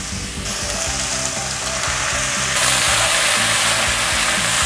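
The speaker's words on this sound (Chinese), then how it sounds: "放入1汤匙的水，快速的翻炒" Napa cabbage stems sizzle loudly in a hot wok after a spoonful of water goes in, a steady close frying hiss with rhythmic scraping of the spatula as they are stir-fried quickly.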